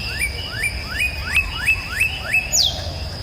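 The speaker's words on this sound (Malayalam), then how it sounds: "എവിടെ പോയാലും ഒരു കിളികളെ ഒച്ചയെല്ലാം ഉണ്ടാവല്ലോ" Small birds chirp outdoors on a cool morning in Armenia among trees near a resort, giving a regular series of short rising tweets about every half second, with one sharper call near the end, over soft background hush.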